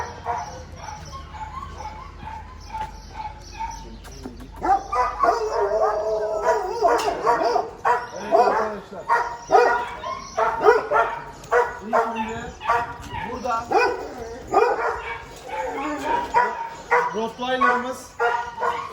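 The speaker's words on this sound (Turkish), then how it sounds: "Burada da bir köpeklerimiz var." Dogs bark and yelp repeatedly at moderate distance on a farm, with some howling, while a person talks nearby.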